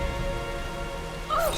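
Steady rain in the Tomb Raider video game, a broad continuous hiss throughout with music tones beneath and a brief rising tonal sweep near the end.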